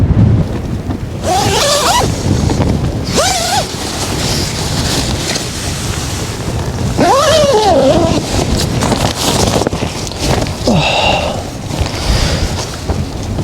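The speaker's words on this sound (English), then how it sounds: "the wind hasn't gone away much" Gusty wind buffets a rainy wild camp tent, a Robens Starlight 1, roaring steadily throughout with louder surges and flapping, close to the microphone.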